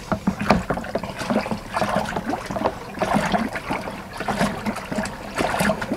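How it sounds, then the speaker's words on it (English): Hard apple cider mixture being sloshed and stirred in a homebrewing vessel, repeated uneven splashing and swirling liquid surges up close, with no voices over it. "I'll slosh it around a bit."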